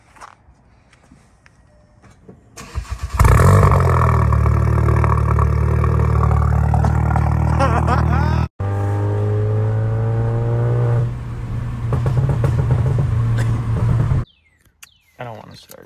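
A VW MK7 GTI with a new downpipe and no muffler starts and revs hard, a loud, raspy, droning exhaust that settles to a steady high idle before cutting off abruptly, with brief voices at the start.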